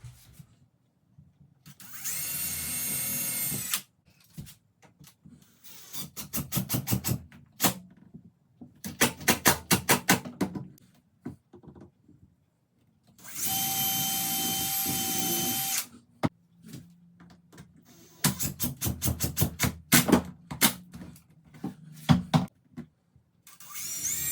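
A power drill bores pilot holes and drives 1¼-inch trim screws into plastic cutting boards, in repeated loud bursts of whirring and ratcheting separated by short pauses, with no talking.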